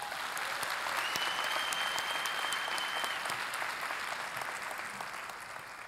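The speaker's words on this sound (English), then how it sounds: "Let's give him applause." Sustained audience applause at the 2018 Guttman Community College commencement, a dense, steady wash of many hands clapping that holds for several seconds and slowly eases off near the end, with scattered louder claps standing out.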